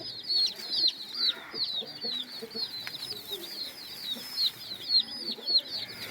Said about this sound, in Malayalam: കോഴികളെ കൂട്ടിലോട്ട് ഇടുകയാണ്